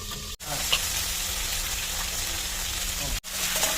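Magur catfish pieces fry in hot oil in a partly covered pan, giving a loud, continuous sizzle with crackling splatters throughout.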